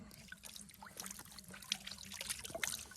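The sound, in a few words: cold water trickling while washing face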